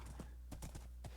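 Horse hooves clip-clopping in the Minecraft video game, a few quick hoofbeats thudding in an uneven rhythm over a steady low hum, fairly faint with no voices.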